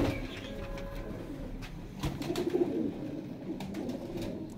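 Soft, low pigeon coos repeat over a steady background murmur at a pigeon breeder's in Faisalabad, with a cluster of clearer cooing calls near the middle.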